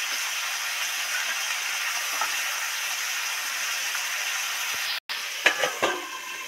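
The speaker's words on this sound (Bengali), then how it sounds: "লঙ্কাগুলো তো ডিপ ফ্রাই করে ভাজা হয়ে গেছে" Green chillies deep-frying in a pan of oil give a steady, fairly loud hiss and sizzle that runs throughout, with a brief cut near the end followed by a few clattering knocks.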